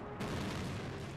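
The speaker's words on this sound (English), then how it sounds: "It strikes the Earth's atmosphere and explodes above the ancient land of Canaan." An asteroid airburst explodes above ancient Canaan, breaking in after a short quiet into a loud, broad, rumbling roar that holds to the end.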